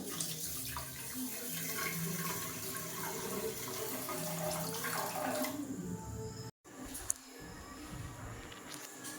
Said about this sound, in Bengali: যে পরিমাণ মতো জল দিয়ে দেবো